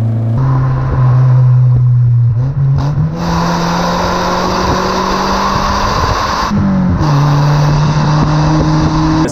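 A lightweight car driven through a series of small bends, its engine loud and close with a steady drone that drops and climbs as it lifts off and accelerates between turns, no voices.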